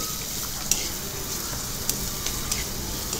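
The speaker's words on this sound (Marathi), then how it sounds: "त्याच्यामध्ये 2 मोठ्या आकाराचे कांदे असे बारीक चिरलेले त्याला आपल्याला एक सोनेरी रंग म्हणजे गोल्डन ब्राउन रंग येईपर्यंत फ्राय करून घ्यायचे" Two large finely chopped onions fry in hot oil after cumin for an egg masala, giving a steady close sizzle broken by a few sharp spatula ticks.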